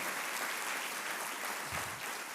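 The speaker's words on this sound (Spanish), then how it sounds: "Dale ese aplauso al Señor si lo crees." Church congregation applauding during a sermon, a steady, dense wash of clapping held at an even level for a couple of seconds, with no voices standing out.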